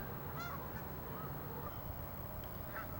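Migrating Canada geese honk at a suburban pond, a few distant, scattered calls sounding over a steady outdoor background hiss.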